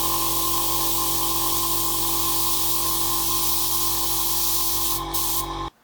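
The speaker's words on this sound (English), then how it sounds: "I'm getting some clogging there, which you can see by the intermittent spray pattern." Airbrush spraying thinned paint for Warhammer miniatures with a steady, loud close hiss over a constant compressor hum and pulsing motor drone, with brief breaks near the end before cutting off.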